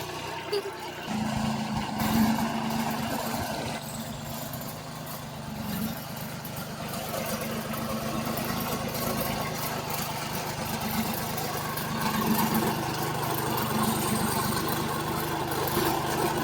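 A tractor engine idles close by, holding a steady low, throbbing drone with no clear revving or pauses across the whole stretch.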